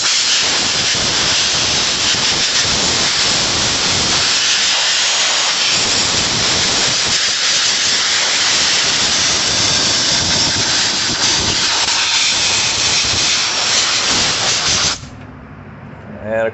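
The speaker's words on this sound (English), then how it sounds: "First, we're going to use the blower, and we're going to blow this clean before we actually get it wet." An air blower hisses steadily and loudly as it blasts dirt off a Traxxas nitro RC car, a broad rushing roar that holds for about fifteen seconds before cutting out abruptly to near quiet.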